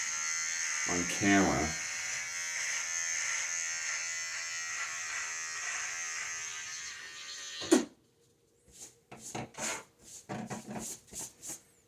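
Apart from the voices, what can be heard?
electric razor shaving a beard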